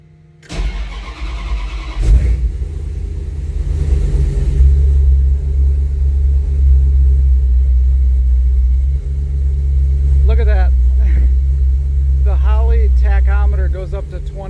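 A 1984 Dodge Ram D150 truck cranks and fires up, then settles into a deep, steady engine rumble close by as it pulls away, with voices talking briefly over it near the end.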